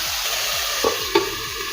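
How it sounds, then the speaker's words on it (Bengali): Winter vegetables for veg chowmein stir-fried in a pan, a soft sizzle under two quick spatula scrapes and clinks against the metal. "আবারও সবজির সাথে ভালোভাবে মিশিয়ে নেব।"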